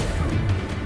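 An Incendio fire spell goes off in Hogwarts Legacy as one brief, loud, dense burst with a heavy low rumble lasting about a second.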